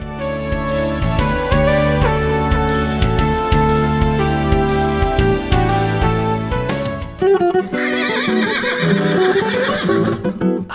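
A horse whinnies over a busy music bed in a radio jingle for a Brazilian gaúcha station, with hooves clip-clopping in rhythm, loud and upfront, the music shifting partway through.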